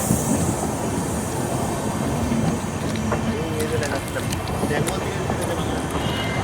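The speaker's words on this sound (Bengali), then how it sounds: "খুব সুন্দর ট্রেন, নতুন দিয়েছে মনে হয় আজ" A new passenger train rolls past close by, a steady broadband roar of wheels and carriages with faint clicking, continuous throughout while people talk over it.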